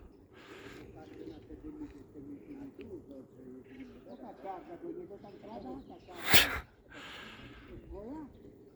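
Pigeons coo softly and repeatedly while indistinct voices murmur nearby, with one sharp rustling burst partway through.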